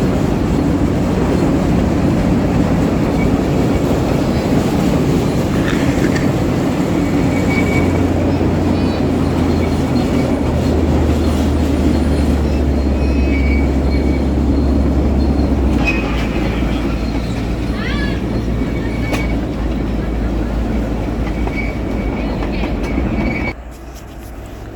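A freight train led by an AC44C6M and a Dash 9 diesel locomotive grinds past in Elkhart with deep engine throb and continuous wheel rumble, occasional high squeals, fading away abruptly near the end.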